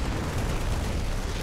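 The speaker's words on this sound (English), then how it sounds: "the Thor with its giant arm cannons will shut away this pylon." Thor arm cannons pounding a pylon in StarCraft II, heard as a dense, continuous roar of heavy explosive blasts and rumbling booms, loud and sustained without speech.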